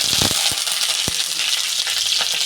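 Mustard seeds, chilli and curry leaves crackle and sizzle in hot oil, a dense steady hiss close up punctuated by several sharp pops early on.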